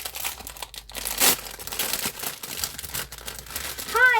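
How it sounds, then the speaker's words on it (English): Plastic packaging crinkles and rustles steadily as it is handled close by, with bursts of louder crackling throughout. "Sorry for the crinkle noise."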